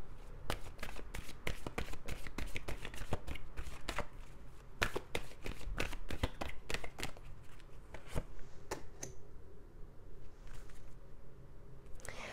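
Tarot cards are shuffled and drawn by hand for a reading, a continuous close run of riffling, tapping and slapping card sounds with brief pauses, growing sparser toward the end.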